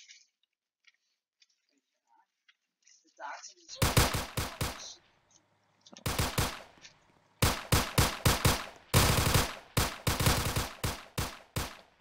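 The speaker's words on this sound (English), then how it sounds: "I hear gunfire." Bursts of rapid automatic gunfire in a video game crackle in several sharp volleys after a quiet start, with faint scattered clicks before the shooting begins.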